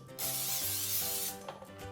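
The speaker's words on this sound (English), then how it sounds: "I'm going to spray inside my air fryer pan with olive oil cooking spray." A steady hiss of olive oil cooking spray into an air fryer pan runs for over a second, close up, then stops, followed by a few light knocks.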